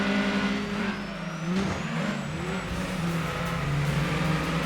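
A TVR sports car engine in Gran Turismo 2 drones at steady revs, a loud mid-pitched hum with a gear-change dip and a rising whine, running continuously with no voices.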